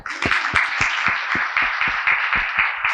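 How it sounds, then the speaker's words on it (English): A crowd applauds, steady claps overlapping into a dense, sustained patter with sharper individual hits standing out, fairly close. "Can we clap for that?"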